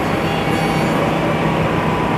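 A steady, loud rumble of the Banyubiru passenger train running between Solo and Semarang, with a continuous low mechanical roar and rolling noise throughout.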